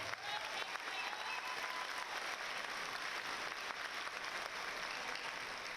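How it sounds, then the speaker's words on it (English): Applause from a large audience at a high school graduation ceremony, a dense, even roar of clapping with faint cheering mixed in, sustained throughout at a distance. "let's give a round of applause for the people who helped make that possible"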